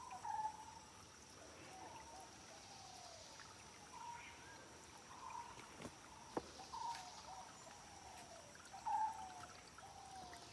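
Water from a village spring well trickles and dribbles steadily at low volume, soft and continuous, with faint chirping birds and insects in the open air around it.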